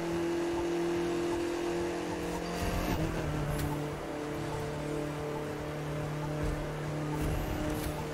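A car in the racing game The Crew 2 holds a steady, loud engine drone throughout, with a sustained tone and faint tire noise, no talking over it.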